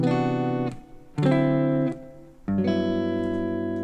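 Three sustained, rich synthesized chords played in sequence, each held for about a second, with a bright, jazzy harmonic color.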